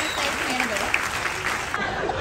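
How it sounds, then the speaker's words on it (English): A comedy show crowd on a cruise ship gives a short burst of applause, with scattered cheers and voices mixed into the clapping. "Give Lee a big round of applause."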